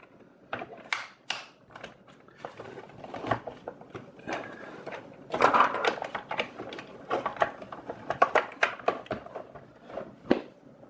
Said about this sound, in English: Now we'll just put the lid back in place.